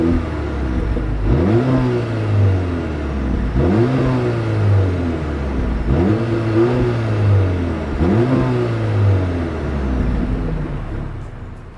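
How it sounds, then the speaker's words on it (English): A 2026 Mercedes-Benz GLB 250's exhaust revs repeatedly while stationary, four or five rising and falling blips at a steady pace over a constant idle rumble, close and fairly loud with no talk. "As always, here is that exhaust clip."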